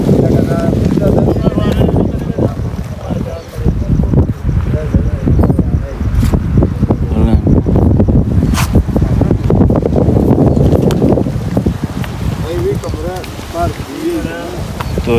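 Strong wind gusting at a lakeside boat point, roaring as a loud, continuous low rumble across the microphone, with people talking through it.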